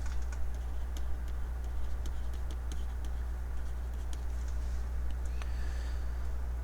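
Calculator keys are tapped in a quick run of light, sharp clicks, faint against a steady low electrical hum.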